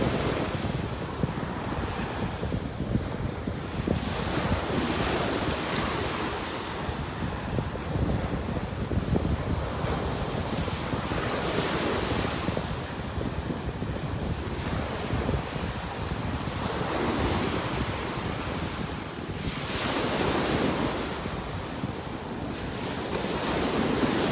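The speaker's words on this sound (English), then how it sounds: "Just listening to these waves." Ocean waves on a beach in North Naples, Florida, rolling in and breaking in continuous washes of surf with wind buffeting the microphone, loud and close with no talking.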